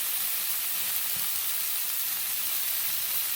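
Tofu browning in a hot pan for tikka masala gives a steady, even sizzle and hiss throughout, close and constant with no voice over it.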